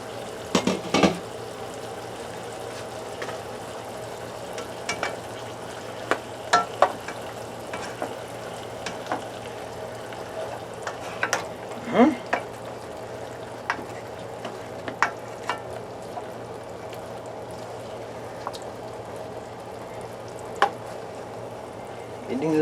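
A pork chop fries in a pan after being flipped, giving a steady low sizzle throughout with scattered clicks and scrapes of utensils against the pan, and a faint voice now and then.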